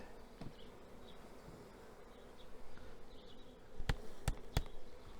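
Honeybees buzz steadily close by, a soft droning hum with a few sharp knocks and taps near the end.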